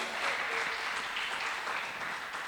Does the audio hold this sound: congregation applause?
yes